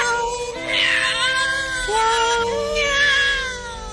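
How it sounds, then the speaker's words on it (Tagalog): A cat meows in two long, wavering, drawn-out calls, fairly close and loud, over a steady tonal background, in a Tagalog-dubbed scene from the animated series The Adventures of Tom Sawyer. "Meow."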